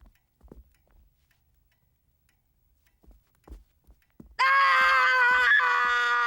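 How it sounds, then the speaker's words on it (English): A boy lets out a loud, sustained scream that starts abruptly partway through and holds steady to the end, preceded by a few faint thumps and rustles. "You tell me what you're screaming about this instant!"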